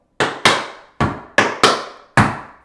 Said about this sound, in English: flap, heel, heel, stamp.